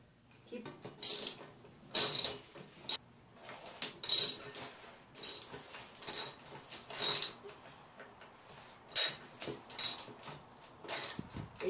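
Metal nuts and parts being screwed by hand onto a Gorilla yard garden cart during family assembly, giving intermittent ratcheting clicks and small clanks in short bursts, close by, with a little talk.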